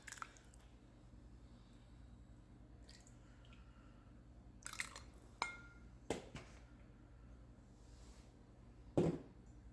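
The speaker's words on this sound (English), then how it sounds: "I have added 1 good heaping tablespoon of cornstarch into my cup, and I've mixed that up real good" A spoon stirring a heaping tablespoon of cornstarch into liquid in a cup for beef tips gravy: quiet wet swishing broken by a few sharp clinks of metal against the cup, the loudest near the end.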